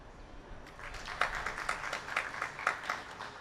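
A talk audience claps in a genius vote, the applause moderate and scattered, building into several louder bursts with a steady patter of hands underneath.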